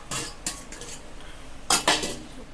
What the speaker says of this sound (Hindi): इसको अच्छे से चला लेंगे